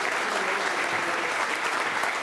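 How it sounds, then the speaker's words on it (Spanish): A church congregation breaks into loud, dense applause welcoming a preacher, a sustained, even wall of clapping from many hands with no pause. "con un fuerte aplauso"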